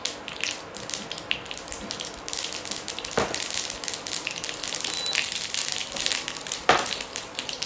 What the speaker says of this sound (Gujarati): રાઈ ફૂટે એટલે એની અંદર 1 ચમચી તલ ઉમેરી લઈશું.